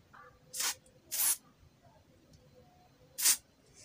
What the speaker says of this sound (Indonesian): Kalau misalnya dia seret, kita semprot dulu pakai cairan pembersih